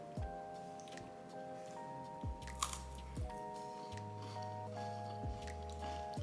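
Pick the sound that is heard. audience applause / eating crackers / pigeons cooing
eating crackers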